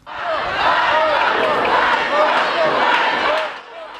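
A large crowd of protesters shouts and chants together, a dense roar of many voices rising and falling, loud and continuous before easing off at the end.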